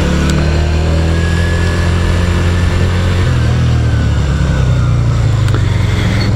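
A 2008 Yamaha XV250 Virago 250 motorcycle engine drones loudly and steadily while riding, its pitch shifting slightly as it pulls along the road near Sandyford Industrial Estate in Dublin.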